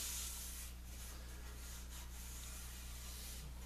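Steady, continuous rubbing hiss of sanding a wooden pub table piece with 220-grit paper, close and even throughout with no talking.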